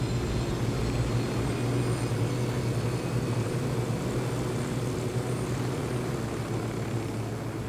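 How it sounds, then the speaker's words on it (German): A stolen helicopter flying in the video game Ghost Recon Wildlands, a steady loud rotor and engine drone with a low throbbing hum that holds constant throughout, with no talking. "Weil wir die ganzen Helikopter klauen."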